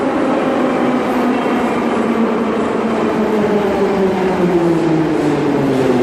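Inside a moving metro train, loud continuous rail noise rumbles with a whining tone that slowly drops in pitch, steady and close throughout.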